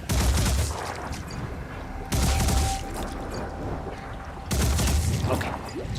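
Cannon fire in the video game Phoenix Point: three heavy, loud booming volleys a couple of seconds apart, each followed by a rumbling, noisy tail.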